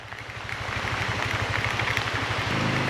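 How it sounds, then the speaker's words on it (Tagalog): Heavy rain pours in a dense steady hiss during a mountain ride on a Suzuki V-Strom 160 motorcycle, with the bike's engine putting out a low rhythmic throb underneath. "Malakas na yung ulan."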